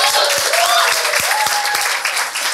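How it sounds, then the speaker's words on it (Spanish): Dense, steady audience applause fills a stand-up comedy show, loud and close for the whole stretch, with a brief whistle rising above the clapping. "Aplausos para las tías."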